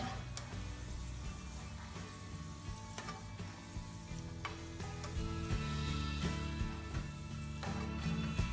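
Sliced onions frying in oil for beresta crackle and sizzle steadily up close, with occasional scraping stirs, growing slightly louder toward the end.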